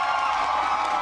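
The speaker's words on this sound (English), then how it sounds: "Pretty decent cheer coming in." Esports arena crowd at an Overwatch League 2018 match cheers for the Outlaws, a steady, dense roar of many voices with whoops, sustained and loud for the whole moment.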